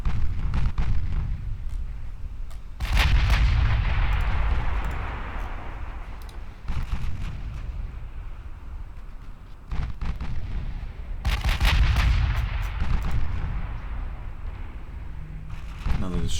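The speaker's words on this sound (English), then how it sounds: "It's pretty long range for an 8-inch gun," Heavy booming gunfire from 8-inch naval guns in the Ultimate Admiral Dreadnoughts naval battle game, several loud blasts with long rumbling decays, a voice talking intermittently over the barrage.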